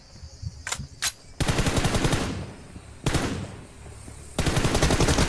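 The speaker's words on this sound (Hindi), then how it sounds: "अरे महाकाल दो चार गोली में पेल देवे।" BGMI gunfire: a couple of sharp single shots, then long loud bursts of rapid automatic fire broken by brief pauses, close and dominant.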